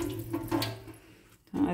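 Tap water runs into a sink to wet a magic cleaning sponge, a close, steady splashing stream that fades out briefly and then surges back, with a voice speaking over it.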